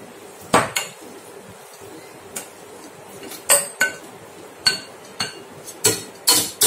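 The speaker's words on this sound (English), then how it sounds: "I am going to mash my chickpeas." Cooked chickpeas are mashed in a pan with a utensil, giving a run of sharp, clinking knocks against metal at an uneven pace, fairly loud and close.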